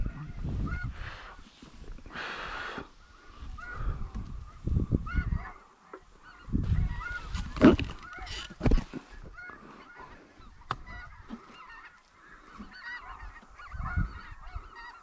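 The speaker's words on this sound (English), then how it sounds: "This is a snow goose right here." Snow geese honk in flight during a goose hunt, with many overlapping calls in irregular bursts from a flock overhead, some loud and some farther off, and no talking.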